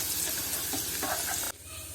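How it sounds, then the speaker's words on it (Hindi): Garlic sizzling and frying in a hot pan, a dense steady crackle with stirring scrapes, then a sudden drop to a quieter sizzle near the end. "अब 1 से 2 मिनट इसको फ्राई करेंगे हम लहसुन को"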